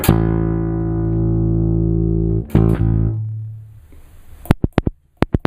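A low sustained note on a Peavey T-40 electric bass, with its second pickup coil activated, rings out and decays, then is muted, followed by a few sharp clicks.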